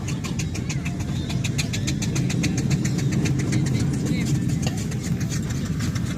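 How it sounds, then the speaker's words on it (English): Steam showman's engine running at a steam rally in the west of England, a steady mid-pitched mechanical chuff and hum with regular ticking, continuous and fairly near, with outdoor background noise. "stuck behind the showman's engine there"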